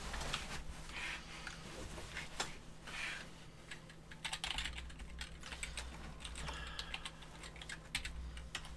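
Typing on a computer keyboard during game development, quick irregular clacks of keys in uneven bursts, close and moderately loud, with no talking.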